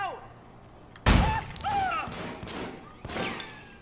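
Gunfire from Winston's gun in the video game Sleeping Dogs: a loud, sharp blast followed by a few more shots in an uneven burst, with another strong report near the end and game effects ringing between them.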